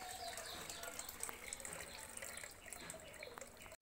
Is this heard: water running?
yes